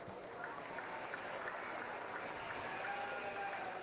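A crowd at a county fair livestock show arena claps in a faint, steady wash of applause heard from a distance.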